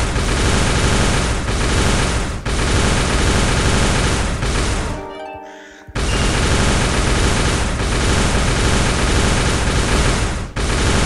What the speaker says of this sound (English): It's got a pretty good rifle, the Feather Fan rifle. Low fire rate, but really good accuracy.